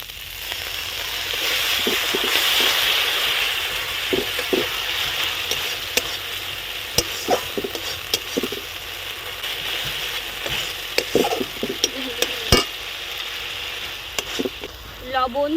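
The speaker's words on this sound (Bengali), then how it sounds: "একটু ভালো করে ভেজে নেব" Spices and tengra fish sizzle in hot oil in a pan for an orange-flavoured fish curry, with a steady hiss and a spatula scraping and clattering in irregular strokes.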